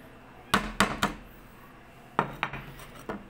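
Cucumber, tomato and green chili are gathered into a tray, giving a run of sharp clinks and clatters: three quick knocks, a pause, then four more, close and fairly crisp.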